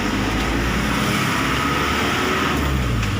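A truck's engine drones loudly and continuously during a driving lesson, a steady rumbling roar as the vehicle gets under way, with no talking over it.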